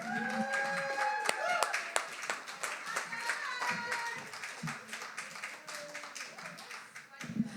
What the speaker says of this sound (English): Please give a round of applause to Morgan McGee.